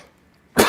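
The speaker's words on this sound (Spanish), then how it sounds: "me dio un poco de tos" A single sharp cough bursts out near the end after a near-silent pause, close and loud.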